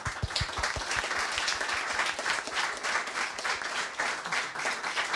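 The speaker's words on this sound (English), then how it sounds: "more round of applause, please." A conference audience at the Sonoj 2024 event breaks into applause, starting with a few near, distinct claps that quickly merge into a dense, steady burst of many hands at moderate volume with no talking.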